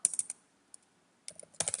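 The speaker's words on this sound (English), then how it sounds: "I'm making typing mistakes as I go." Short bursts of typing on a computer keyboard, a quick cluster of clicks, a brief pause with a lone tap, then a faster run of keystrokes, close and fairly crisp.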